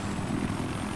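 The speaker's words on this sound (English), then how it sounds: "Helicopter." Battlefield 4 helicopter, a steady close rotor and engine drone with a dense low throb filling the whole second, loud and without voices.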